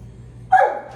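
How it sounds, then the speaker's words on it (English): A large dog gives a single short, sharp bark nearby, cutting into an otherwise quiet room. "Don't mind my dog"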